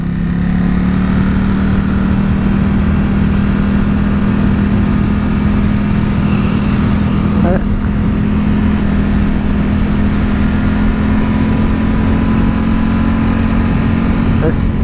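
A motorcycle engine drones loud and steady throughout a ride along a twisty road, captured close by a helmet camera with constant wind rumble and no clear pauses.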